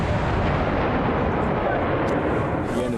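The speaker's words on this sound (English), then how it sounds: "the mortar team have been scrambled to target their position" Army mortar rounds fired by a mortar team at an enemy position in Afghanistan, a dense, continuous roar of heavy booming and rumbling blasts filling the whole stretch, loud and close with no clear gaps.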